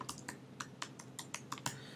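Quick computer keyboard typing of a folio name in InDesign, about a dozen soft, evenly spaced key clicks in a brisk burst, close and fairly quiet with no talking.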